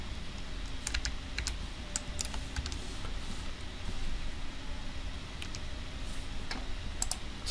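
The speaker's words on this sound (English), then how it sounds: "So then I can type something like this." Fingers type on a computer keyboard in irregular, rapid clicks, close and fairly faint over a steady background hum, with no voice.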